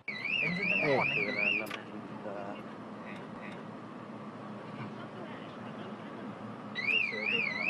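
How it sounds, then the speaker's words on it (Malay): A warbling electronic car alarm wails at the start, cuts out, then starts again near the end, with people talking and background noise in between. "Kau tutup alarm apa?"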